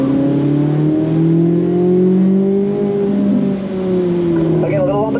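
A Corvette engine accelerating on a race track, a loud sustained engine drone rising and falling in pitch through gear and throttle changes, with a voice speaking over it.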